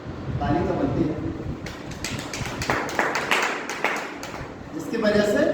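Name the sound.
audience applause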